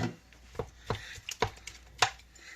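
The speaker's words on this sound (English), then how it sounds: "Sausage is a lot easier to chop up than hamburgers." Sausage is chopped on a cutting board with a knife, giving about six crisp, irregular chops in quick succession, close and clear with no talking.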